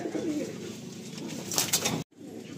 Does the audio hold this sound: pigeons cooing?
yes